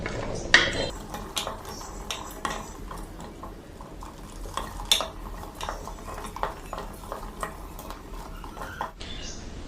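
Raw garlic is stir-fried in oil with whole spices for a garlic and olive pickle, a spoon scraping and clinking against the pan in steady irregular strokes over a soft sizzle, close and moderately loud, with no talk.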